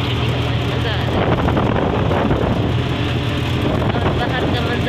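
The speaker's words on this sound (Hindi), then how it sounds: "ठंडी ठंडी हवा चल रही है ना" Cold wind rushes steadily past the microphone during a car drive, a loud, continuous blustery roar that runs the whole time, with a voice talking over it.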